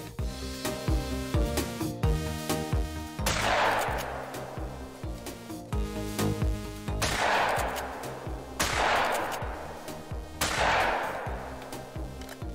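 A 12 gauge Cacciatore pump shotgun fires in the hunting game Call of the Wild, with four loud booming shots spaced a few seconds apart, each trailing off in a long rumbling echo over layered game ambience.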